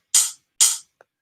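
A metronome app on a phone plays two crisp, hissy ticks about half a second apart, each fading quickly, then a faint short blip, with silence around them.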